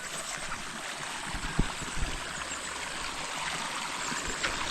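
Irrigation water flows steadily into an eggplant field, a continuous broadband rush and trickle with a couple of brief soft knocks, moderately close and heard alone without speech.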